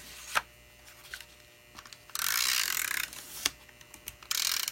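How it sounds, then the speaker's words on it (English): Several short crackling, ratcheting bursts of a tape runner being rolled along, with quick clicks between, close and fairly quiet. "There's something soothing about the sound of the snail adhesive, I find."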